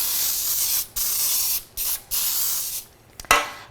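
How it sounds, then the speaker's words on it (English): Several bursts of baking spray hiss onto cake pans in short, steady blasts with brief pauses between, ending in a quick final spritz, close and clear. "I'm going to spray the edges with the baking spray"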